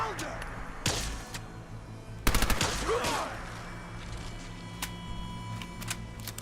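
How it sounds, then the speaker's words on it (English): Raiders' gunfire in Fallout 4, sharp bursts of shots in two clusters, a quick volley near the start and a louder rattling burst midway, then scattered single cracks, with talk in the background. "Oh, now he's firing back, huh?"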